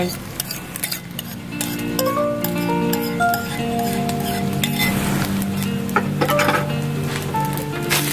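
Leftover cold rice stir-fried with canned fish as sauce is tossed through it, a continuous sizzle under repeated clinks and scrapes of a utensil against the pan, with a soft melodic tone running underneath.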